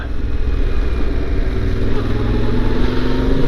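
A big motorcycle engine, larger than a KTM, ridden slowly over bumpy ground, a steady loud rumble with a slight rise in pitch toward the end.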